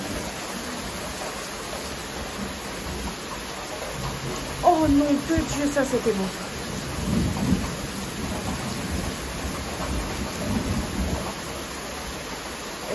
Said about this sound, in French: on a le plus beau des orages